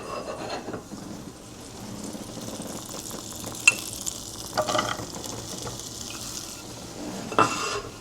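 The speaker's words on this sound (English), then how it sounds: "So that's frying away nicely now." Vegetables sizzling in melted butter in a frying pan, a steady crackling hiss with occasional utensil scrapes and taps against the pan, close and continuous.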